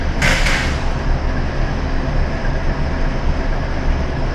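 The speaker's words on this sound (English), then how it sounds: "Still waiting on the train to pass the other direction." A loud, steady rumble of a train rolling past nearby, with a brief hiss at the start and a continuous low roar throughout.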